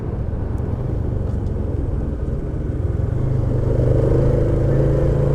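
Stock Honda Supra X 125 manual-clutch motorcycle engine running steadily close by, a continuous low rumble with faint clatter that grows slightly louder toward the end, no talking.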